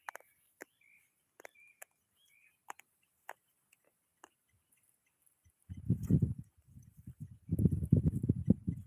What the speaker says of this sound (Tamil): இந்த ஆட்டுக்குட்டி இந்த அரிசி திங்கிது பார்த்தீங்களா?